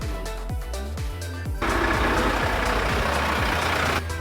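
A truck delivering furniture rumbles nearby, its engine droning low with pitch sweeps as it shifts or moves, then a louder broadband hiss like air release joins and holds for a couple of seconds before cutting off.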